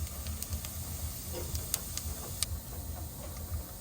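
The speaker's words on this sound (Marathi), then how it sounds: "आता जिरे टाकत आहे" Cumin seeds dropped into hot oil, giving a steady sizzle and hiss with small crackling pops and ticks scattered throughout, close and fairly loud.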